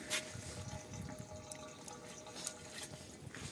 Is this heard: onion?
no